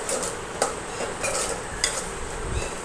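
Okra stirred with garlic chutney in hot oil in a pan: a few sharp scraping and clinking strokes of a spoon against the pan, close up, over a faint steady sizzle, with no voices.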